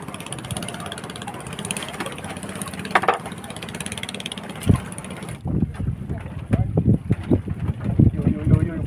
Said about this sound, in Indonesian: Ombaknya makin besar, angin juga kencang nih